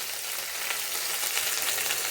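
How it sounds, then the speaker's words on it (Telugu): Okra pieces frying in a pan with curry leaves, a steady dense hiss of oil that stays even and close throughout, with no talk. "ఇది కొంచెం వేగాక దీంట్లో బెండకాయ ముక్కలు వేసేసి"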